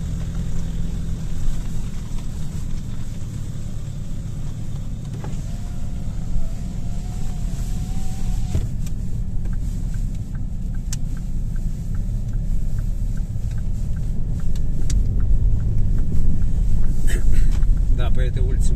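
Car driving along a street in Jelgava, Latvia, near Birzes Street and the depot district: a steady low engine and road rumble with wind buffeting, continuous and close, while people talk over it.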